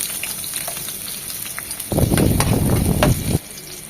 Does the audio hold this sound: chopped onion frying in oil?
yes